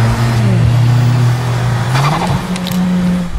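Chevrolet Camaro V8 on 22-inch wheels revving hard up close, a loud steady engine roar with the pitch sweeping up and down, heard alone.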